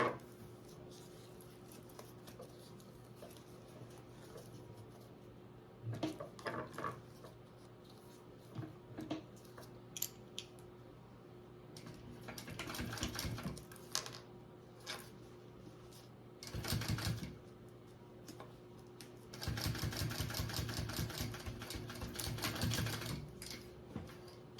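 A sewing machine top stitches a waist bag in bursts of rapid, rattling needle strokes, quiet between runs with a longer sustained run near the end and faint handling noises in the pauses.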